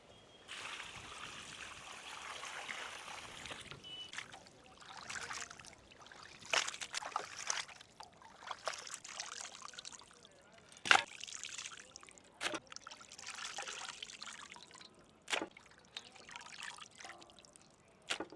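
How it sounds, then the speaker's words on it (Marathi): Water running and splashing while raw chicken is washed by hand for a clay-pot chicken biryani, an uneven trickling stream broken by sharp clatters and knocks, close and fairly soft. "आपण आता चिकन स्वच्छ धुवून घेऊ।"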